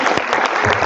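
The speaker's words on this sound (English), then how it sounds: "round of applause for Harlan." Audience applause after a lightning talk at a data visualization meetup, a short burst of dense, close clapping from the gathered crowd.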